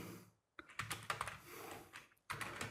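Typing on a computer keyboard in a text editor: rapid, close clicking keystrokes in short bursts separated by a brief pause, quiet and alone.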